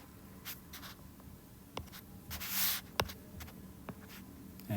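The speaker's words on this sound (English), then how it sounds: "Let me erase this." Dry erase marker or eraser scrubbing writing off a whiteboard during a geometry lesson, a few short scratchy swipes and squeaks spread across a quiet room.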